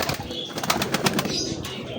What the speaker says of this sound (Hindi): माशाल्लाह आपने ये देखें जरा गलाटू कबूतर